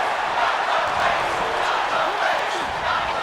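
Dense, steady roar of a wrestling arena crowd in the WWE 2K25 video game, a continuous broadband wash of cheering that stays loud and even throughout with no clear voices standing out.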